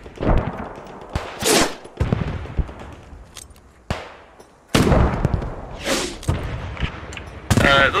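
Repeated gunfire and heavy cannon blasts from friendly tanks in the Squad 44 North Africa mod burst in loud, uneven volleys with short gaps between them, close by and sharp.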